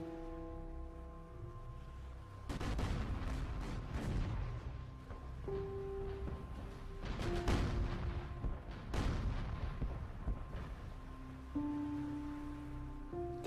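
Artillery and gunfire of a D-Day beach assault sound as repeated loud booms and sharp cracks over a continuous rumbling din, with several heavy blasts clustered around the middle.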